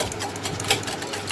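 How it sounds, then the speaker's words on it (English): Dalgona coffee mixture being whisked into a batter, a fast steady whirring buzz that runs continuously through the short stretch with no voices. "So now I have to whisk it until it becomes a batter."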